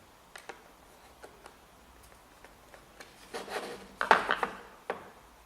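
Screw being tightened into wood on a small lamp assembly, heard as sparse close ticks and scrapes that build into a few louder rasping turns near the end.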